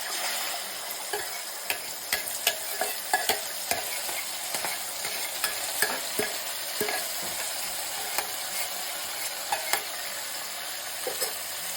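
Tamarind paste with a curry-leaf tempering bubbles in a pan for puliyogare mix, a dense steady sizzle and hiss with frequent sharp spatula clicks and taps throughout.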